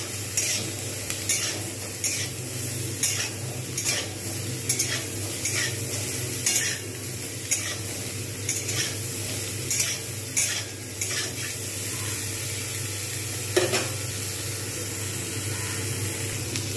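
Nigella seeds sizzle loudly in a little oil with fried cauliflower, a constant close crackle under repeated scraping stirs of a spatula against the pan.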